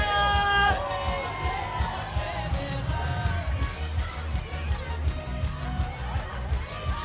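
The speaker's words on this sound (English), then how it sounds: "We got girls cheering for Reema everywhere." Girls cheer and shout for Reema at a bat mitzvah celebration, with a lively crowd of voices mixed with loud thumping dance music throughout.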